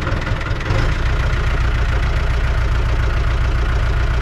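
A farm tractor or similar machine with a worn clutch engine runs steadily and loudly at close range, a continuous low idling rumble with no talk.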